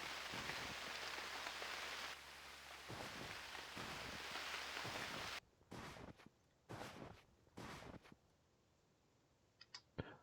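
Steady rain hisses across the ground in the survival game UnReal World for about five seconds, then stops abruptly and leaves faint footstep-like rustles and scattered clicks.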